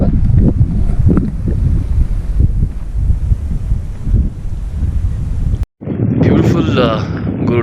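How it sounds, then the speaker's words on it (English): Strong wind at Gurudongmar Lake buffets the microphone as a loud, continuous low rumble with gusty surges, briefly cutting out before roaring back, with a voice faintly mixed in. "You can see now it's windy."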